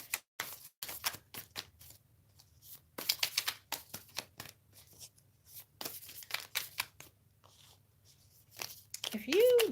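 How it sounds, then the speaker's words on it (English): Tarot cards being shuffled by hand, with repeated crisp riffling bursts and a steady rhythm of card flicks. The sound is close and moderately loud, with a brief voiced sound near the end. "Spirit's directing me to continue shuffling here."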